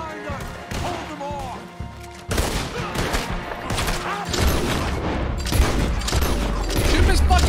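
Gunfire from a Red Dead Redemption 2 shootout, a fusillade of gun blasts and crashes in dense, loud bursts that build and continue throughout, with people shouting over it.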